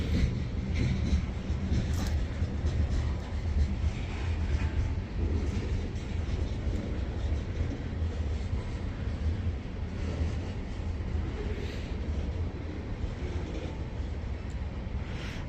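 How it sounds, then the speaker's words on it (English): A long train passes at night, a steady, moderately distant rumble of rolling railcars with faint clickety-clack that holds evenly throughout, with no voices. "Man, this is a long train."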